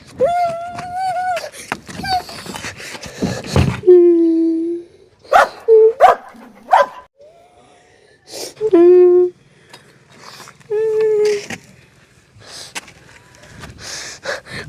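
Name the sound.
dog barking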